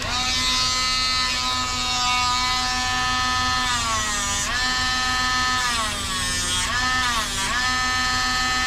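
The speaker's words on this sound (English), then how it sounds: "I see that I missed a foot with the Dremel. I'll do it real quick." A Dremel rotary tool grinding a dog's nails, a continuous close, loud high-pitched buzz that dips in pitch several times as it bears down on each nail, with no talk.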